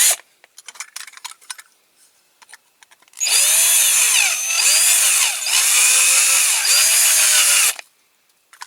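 A power drill with a dull bit bores into a die-cast Dinky Toys RAF pressure refueller model, whining loudly and steadily for several seconds with brief dips in pitch, after some light handling clicks.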